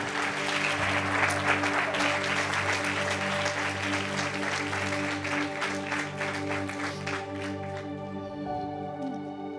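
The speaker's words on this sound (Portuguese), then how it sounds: "Aplauda a presença do Espírito Santo." Church congregation applauding together during a worship service, a dense steady wash of clapping with sustained instrumental tones underneath that thins out toward the end.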